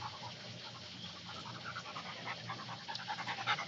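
A dog pants steadily close by, rapid rhythmic breaths going on without a break over quiet background noise, getting slightly louder toward the end.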